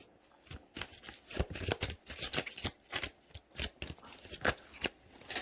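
Cards being shuffled in repeated quick riffles, crisp bursts of rapid flicking, close and fairly loud with no talking.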